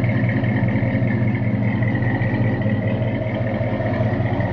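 A 1972 Ford F100 short-bed pickup idling steadily, its engine and exhaust making a continuous low rumble with a slight clatter, close and constant throughout.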